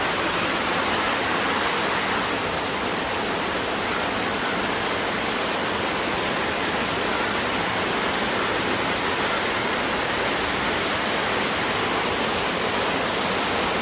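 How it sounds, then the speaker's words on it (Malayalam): Heavy rain pours down outside as a dense, unbroken roar that holds steady throughout, with no voices or other sounds over it. "എനിക്ക് പുറത്ത് എന്തൊരു മഴയെന്നറിയോ, മഴ."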